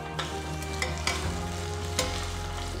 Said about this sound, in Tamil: இஞ்சி பூண்டு ஃப்ரெஷ்ஷாக போட்டோடனே ஒரு நல்ல ஒரு அரோமா வரும் பாருங்கள்